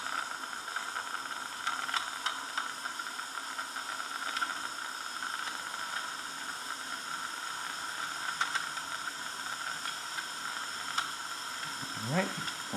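A Wilesco T115 model steam turbine boiler gives off a steady, fairly faint hiss of escaping steam, continuous throughout with small ticks and a brief sliding tone near the end.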